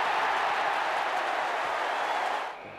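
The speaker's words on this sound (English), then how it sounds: "Bumper crowd here at the MCG." Roaring bumper crowd at the MCG during a Victoria v South Australia State of Origin football match, a steady wash of cheering and clapping that cuts off abruptly near the end.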